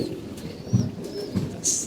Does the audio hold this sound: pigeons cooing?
yes